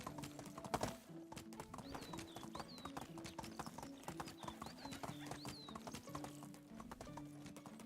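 Horse hooves clip-clop in a steady, continuous rhythm while riding through Medieval Dynasty, close and even throughout, with occasional birdsong chirps above and a brief whinny-like swell early on.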